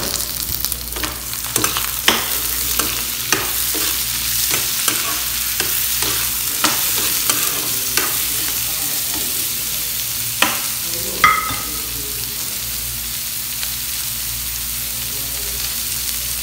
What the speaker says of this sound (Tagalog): igisa lang din natin yung carrot hanggang sa ma-semi-cook siya